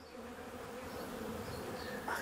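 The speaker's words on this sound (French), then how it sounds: "Bonjour, petites abeilles." Honey bees buzzing inside an opened hive after smoke has been puffed in, a steady, faint, close swarm drone that goes on without a break.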